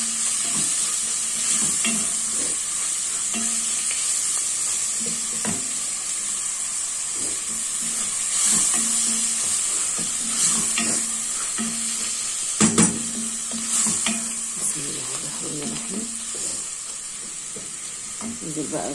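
Onion and meat sautéing in a pot as celery, coriander and parsley are added, a steady loud sizzle with occasional stirring scrapes and clinks, close by.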